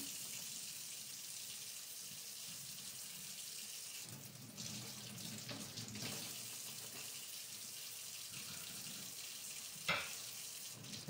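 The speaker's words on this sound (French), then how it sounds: "Rincez votre assiette parce qu'il reste peut-être du gros sel." Tap water running into a kitchen sink while a plate is rinsed, a steady soft hiss with brief clatters and splashes, fairly quiet and without talk.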